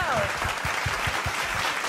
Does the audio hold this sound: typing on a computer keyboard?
no